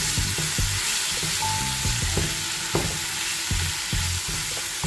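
Spices and tomato sautéing in a pan for a prawn dish crackle with a continuous sizzle, broken by repeated knocks and scrapes of a spatula stirring at an uneven pace.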